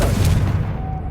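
A Confringo blasting curse goes off in the video game Hogwarts Legacy, a deep, loud boom that swells at once and then rumbles and fades over about a second, with no voices.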